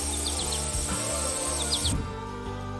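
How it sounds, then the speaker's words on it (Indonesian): Birds chirp and twitter in a sunny green meadow with colourful flowers, short bright calls repeating in small bursts over a steady dense background, the scene cutting to a quieter bed after about two seconds. "burung berkicau, dan lebah berdengung"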